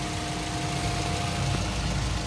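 A used car's engine idles steadily and smoothly, a continuous low mechanical hum with a faint steady whine, close by and alone without any voices.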